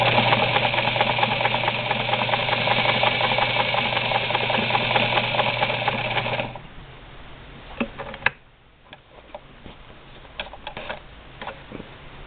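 A Singer 237 sewing machine driven by a Bishop Sewing Systems hand crank stitches with a fast steady mechanical chatter for about six seconds, then stops, leaving faint clicks and handling noises.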